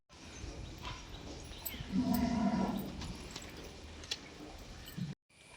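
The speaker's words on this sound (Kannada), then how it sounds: "ದನಗಳು." Cattle in open grounds at a temple give one low, drawn-out moo midway, faint and somewhat distant, set against a quiet outdoor background.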